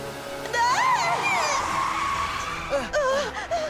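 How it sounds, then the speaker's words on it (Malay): A high, wavering screech of car brakes and skidding tyres rises and falls, joined by shouting voices, then a few shorter squeals near the end; from an animated cartoon. "Tekan brek kuat-kuat."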